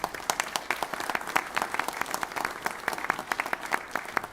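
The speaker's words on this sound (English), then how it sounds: "would everybody give them a round of applause" Audience at an economic development summit applauding, with many hands clapping in a lively, uneven patter and sharp individual claps standing out, sustained at moderate volume.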